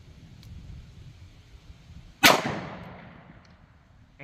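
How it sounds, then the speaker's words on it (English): A single sharp revolver shot from a .38 Special loaded with Federal Punch 120-grain +P ammunition cracks out loud and close on an outdoor range, its report trailing off over about two seconds, with another shot starting at the very end. "I'm going to shoot at the center target this time"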